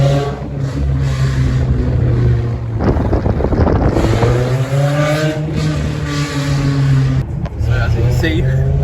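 A K-swapped Honda EK with a custom exhaust drones and rises in pitch as it revs and accelerates, with wind buffeting the microphone and a voice talking over it.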